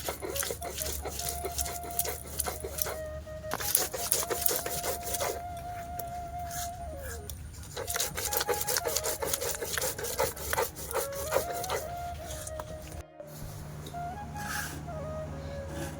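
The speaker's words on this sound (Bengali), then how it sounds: "মশলা থেকে যে কোনো জিনিসটাই শিলনোড়াতে বাটলে টেস্টটা বেশি হয়।" Spices are ground by hand on a shil nora grinding stone, giving close, repeated scraping and rasping strokes in an uneven rhythm, with a short pause in the middle.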